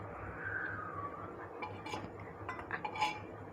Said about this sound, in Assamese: কণ্টিনিউ আমি লৰাই থাকিব লাগিব যাতে আমাৰ তলত যাতে মছলাখিনি লাগি জ্বলি নাযায়